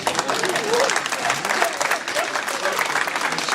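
Applause from the audience at a regional Labour Party conference Q&A, a dense burst of clapping that holds steady throughout, with faint voices and cheers mixed into the crowd.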